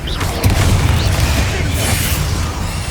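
Confringo explosive spell in Hogwarts Legacy: a deep booming blast with a crackling burst, loud and close, rumbling for a few seconds with no talk.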